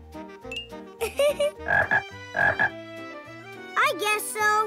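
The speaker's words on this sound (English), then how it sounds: "Are you hungry, Froggy?" A cartoon frog croaks several times over a bouncy musical score, with a voice chiming in at moments.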